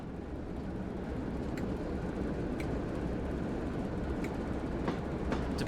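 A Class 09 diesel shunting locomotive moving along the West Somerset Railway in the simulator game Train Sim World 2: a steady low engine rumble with faint clicking rail sounds, no voices.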